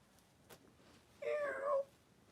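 A person vocally imitates a cat's meow while on all fours in a cat-cow yoga pose, producing one drawn-out, wavering meow close by after a soft tap.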